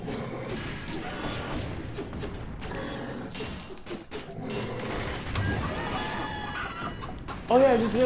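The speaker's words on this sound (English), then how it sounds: "This ability to turn into a freaking chicken is amazing." Game character transformed into a chicken in Dead Cells, clucking amid busy, continuous game music and effects, with a brief louder squawking burst near the end.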